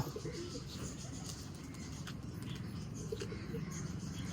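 Soft, low pigeon cooing repeats close by over a steady murmur of background noise.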